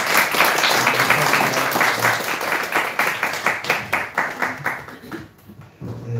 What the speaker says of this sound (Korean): 하나님께 영광의 박수로 다 같이